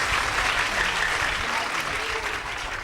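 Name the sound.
audience applauding loudly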